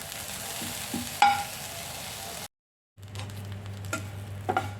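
Dry prawns roast in a pan, giving a soft, dry sizzle with scattered stirring scrapes and ticks, interrupted by a brief silence before the faint crackle resumes.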